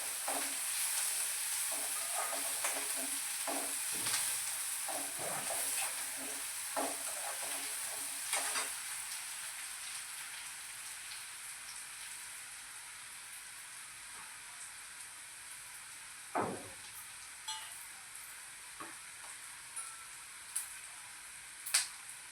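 Onion sizzles in a kadhai for rava upma, a steady frying hiss with scattered stirring clinks early on, fading to a quieter simmer with a few sharp spatula knocks later; no talk.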